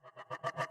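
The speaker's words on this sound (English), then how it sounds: "And then I use this nice riser just to give it a nice effect." A chopped-up riser effect in an FL Studio Afrobeat production pulses in six quick rhythmic stutters that grow steadily louder and brighter over under a second.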